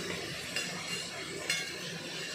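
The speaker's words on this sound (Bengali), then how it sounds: "এই চচ্চড়ি শুধু নামাবো, আমি নাড়িয়ে নিই" Chorchori vegetables stirred in a pan, a quiet steady sizzle with two scraping strokes of a spoon against the metal, close and without talk.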